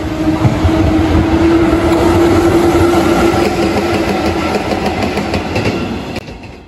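A historic electric locomotive hauling a train passes through Inazawa Station on the Tokaido Main Line, a loud, close, continuous rumble and rattle of wheels with a sustained tonal whine, fading sharply at the end as it goes by.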